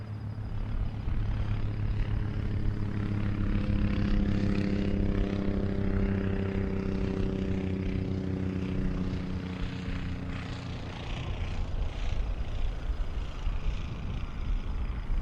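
A single-engine Cessna 152 propeller drone in a flight simulator runs steadily at close range, with layered engine harmonics that rise and shift slightly midway before settling into a constant hum.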